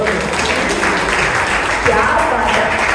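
Guests at a baby shower ceremony clap together in a continuous, fairly loud burst, with room murmur and voices mixed underneath.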